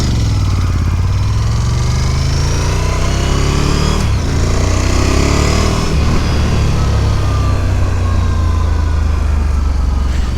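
A loud, close 2022 Ducati Scrambler 1100 engine running continuously on its stock exhaust, with shifting revs and a rough droning tone throughout.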